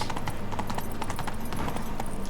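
In The Witcher 3, the horse Roach's hooves clip-clop in a steady, quick rhythm at a walking gait along a city street, close and clear over a faint ambient bed.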